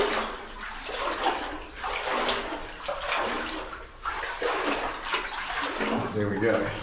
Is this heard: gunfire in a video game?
no